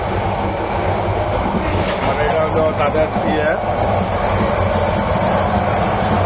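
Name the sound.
inside a moving Bangladesh Railway train compartment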